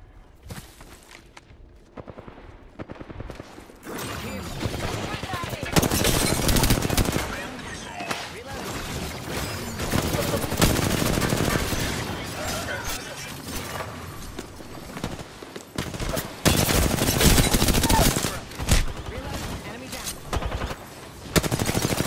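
Single-fire shots from the Hemlock rifle in the Apex Legends video game ring out amid a dense, loud firefight, with bursts of gunfire from several directions and players talking over the action.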